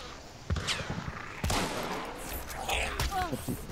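Gunfire in Hunt: Showdown lands as sharp, separate shots spaced about a second apart, loud and close, with faint murmuring and other game noise filling the gaps between them.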